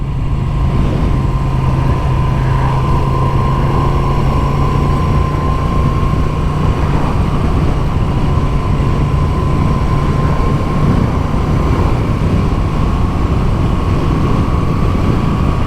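A Moto Guzzi V7 Sport motorcycle cruising at 60 mph in fifth gear, a loud steady engine drone mixed with heavy wind rush, holding an even note for the whole stretch without talk.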